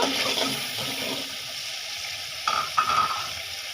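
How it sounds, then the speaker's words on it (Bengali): Fish and eggplant dropped into sizzling spice paste, a watery hiss and crackle with a couple of sharper bursts near the end, close and alone without speech. "এখন আমি মাছ আর বেগুন একসাথে দিয়ে দিব"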